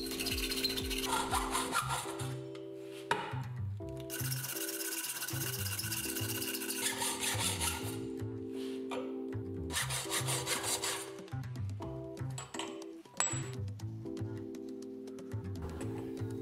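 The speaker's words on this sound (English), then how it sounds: "I'll cut all the necessary materials, leaving 2 extra millimeters with a metal cutting saw" A metal cutting saw runs through aluminum and steel pipe stock in a workshop, with repeated bursts of harsh grinding and rasping separated by short pauses, loud and close with no talk.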